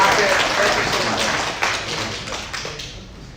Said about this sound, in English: Round of applause for our friends from Freddie and Rocket.